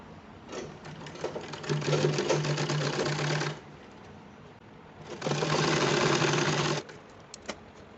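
A sewing machine stitching the sleeve seam of a small child's kurta sewn from old clothes, in two close, loud runs of rapid whirring separated by a short pause, with no talk.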